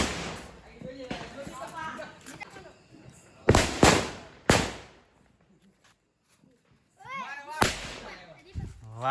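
Diwali firecrackers bursting outdoors in a village, several sharp loud bangs in separate bursts with quieter gaps, mixed with people talking and calling out between the explosions.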